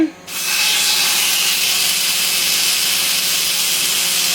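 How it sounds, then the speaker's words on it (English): Loud, steady hiss of steak sizzling in a hot frying pan, starting abruptly after a brief quiet moment and continuing without a break. "when you put your steak in it really starts to sizzle like mad"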